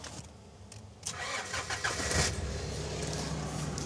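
A van engine started with a portable jump starter cranks briefly after a quiet moment, then fires and keeps running at a steady, fairly loud idle, with no one talking.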